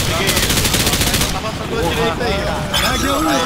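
Call of Duty gunfire during a mission in Piedade, Rio: rapid, loud bursts of automatic fire dominate the opening, then the shooting thins out as players' voices talk over the continuing combat.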